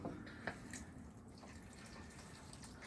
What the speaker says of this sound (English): And then 3 cups of water.